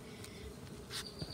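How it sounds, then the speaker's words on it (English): Ground-nesting bees buzz close by, a soft continuous insect drone with individual bees swelling louder as they pass near, heard outdoors without voices. "ground nesting bees."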